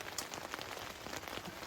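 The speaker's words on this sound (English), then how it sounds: "It's raining." Rain patters steadily on a tent pitched on a campground tent platform in the White Mountains, dense and even drops close by, with no voices.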